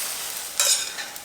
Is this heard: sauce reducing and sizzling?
yes